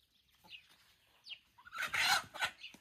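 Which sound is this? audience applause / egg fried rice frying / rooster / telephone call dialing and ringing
rooster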